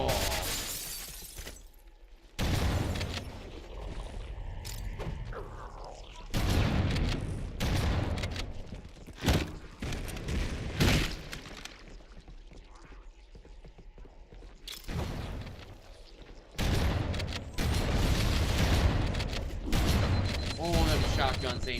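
Shotgun blasts in Halo: Combat Evolved, several heavy booming shots spaced apart amid game noise, with someone talking between and over them.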